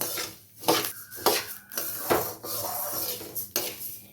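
Coriander seeds are stirred while they roast in a pan, making repeated close scraping and rattling against the metal in short bursts with brief pauses, and no one speaks.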